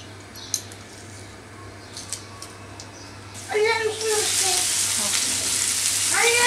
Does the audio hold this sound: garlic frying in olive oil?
yes